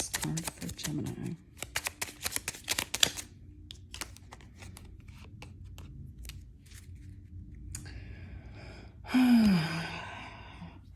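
Tarot cards being shuffled in the hands: several quick riffling bursts and crisp slaps near the start, then quieter handling, with a short breathy vocal sound near the end.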